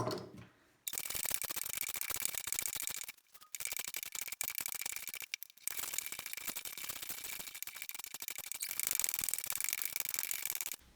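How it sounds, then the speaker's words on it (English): A spokeshave shaves a double-chamfered wooden back leg for a Gamble House–inspired dining chair, producing dense, close rasping strokes that run almost continuously, broken by two brief pauses, with no talking. "I think I will just finish that off with a spoke shave"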